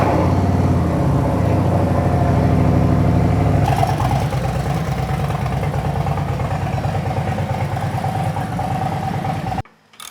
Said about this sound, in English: start the bike and let it run